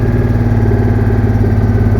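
A Citroen Mehari engine idles steadily close by, with a throbbing low rumble and an even, fast pulse and no voices.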